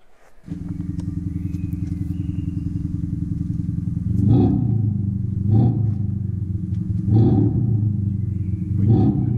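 A low simulated engine drone from an electric Volkswagen Golf hums steadily, swelling into four rhythmic revving surges, each roaring up briefly before settling back, close and loud.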